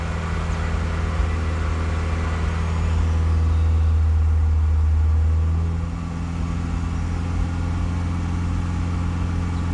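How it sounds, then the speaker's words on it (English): A car engine idles steadily and close by, a low continuous hum with a stronger drone in the middle that eases off toward the end, with no talking. "it seems to be idling quite well at the moment"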